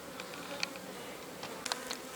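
Honey bees buzz around an old log hive in an apiary, a steady hum with a few brief nearby flybys standing out against it. No voices.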